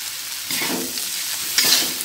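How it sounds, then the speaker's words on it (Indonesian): Cassava leaves seasoned with salt, sugar and MSG fry in a pan while being stirred, giving a steady hiss with a couple of brief, soft scrapes and no voices. "Ini dicampur."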